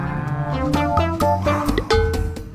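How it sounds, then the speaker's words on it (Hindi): A herd of water buffaloes crowding a road around a stuck vehicle, giving several loud, low, drawn-out moos and grunts close by, one after another. "अचानक रोड पे काफी सारी भैंसें आ गईं"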